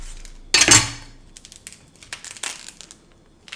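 A knife slices an onion in half on a cutting board with one sharp crunching chop, followed by faint crinkling and light tapping as the halves are handled.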